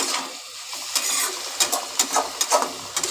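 Greens and potatoes sauté in a hot pan with a continuous sizzle, broken by a series of quick scraping strokes of the spatula toward the end.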